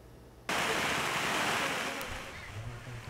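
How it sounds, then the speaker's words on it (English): Heavy rain pours off canvas tents in Canoa, a dense, loud hiss that starts abruptly and runs steadily like a waterfall, with no voices. "Heavy rain is pouring off these canvas tents like a waterfall."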